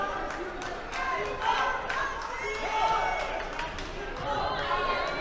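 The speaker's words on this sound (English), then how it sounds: "The crowd loves it." Basketball crowd in a gym cheering and clapping after a defensive play while referees confer, a steady mid-level roar of voices and scattered applause throughout.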